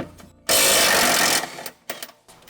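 Power tool loosening an 18 mm sway bar end link nut on an E60 M5 suspension, one loud close burst of about a second followed by a few faint clicks and clanks.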